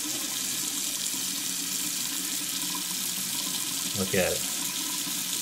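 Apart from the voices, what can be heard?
water draining out of an unclogged sink drain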